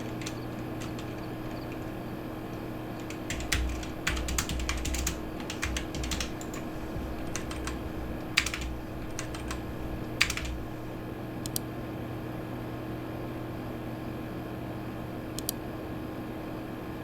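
Light, irregular keystrokes on a computer keyboard, faint and somewhat distant over a steady low hum, with scattered sharper clicks.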